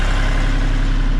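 A tractor engine idles close by in snowy weather, giving a loud, steady low rumble with an even throb and no voices.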